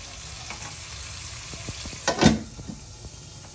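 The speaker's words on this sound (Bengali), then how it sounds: "দুই মিনিট এটা আমরা একটু কষাতে রেখে দেব যাতে আলু এবং কলিজার ভিতর মশলাটা" Potatoes and chicken liver frying in a pan with spices, a quiet steady sizzle with a brief louder burst of stirring near the middle.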